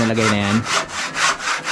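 A hand saw cuts back and forth through wood at a rhythmic pace, close and loud; someone speaks briefly over the first strokes.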